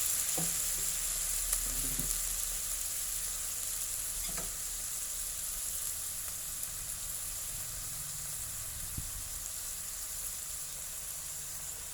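Pork stir-fried in a pan with carrots and snow peas, a steady close sizzle and hiss of frying with a few soft clanks of stirring throughout, no voices.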